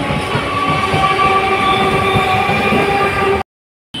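A train pulling into a railway station, a loud continuous rumble of wagons with steady tonal squeal, close by, cutting out abruptly near the end.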